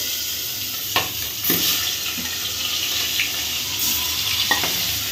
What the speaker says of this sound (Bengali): দেখেন বন্ধুরা, মাগুর মাছ ভাজা